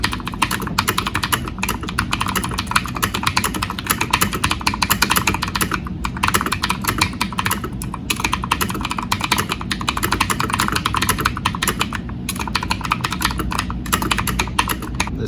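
Steady, rapid clacking of keys on a budget mechanical keyboard, dense continuous typing up close with brief pauses and no talking.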